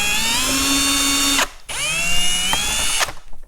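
A power drill backs screws out of the engine guard on a 2022 Harley-Davidson Road Glide, with two loud, close whirring runs whose pitch slides as the motor spins up, separated by a brief pause.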